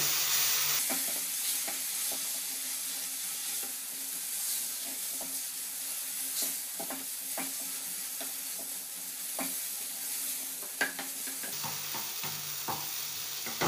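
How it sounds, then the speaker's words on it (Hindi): Potatoes fry and sizzle in tomato puree seasoned with salt and chilli for a Navratri fasting thali, a steady soft hiss broken by frequent scraping stirs of a spoon in the pan, with no talking. "अब मैं इसमें आलू डाल देती हूँ।"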